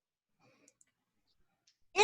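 Sudden sharp sneeze heard remotely over an online city council meeting connection, one loud burst at the very end after near silence with faint background murmurs.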